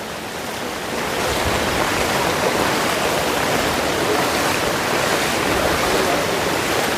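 Heavy monsoon rain pours down around a flooded housing society in Karjat, a dense, continuous hiss of water that swells after the first second and stays loud and unbroken.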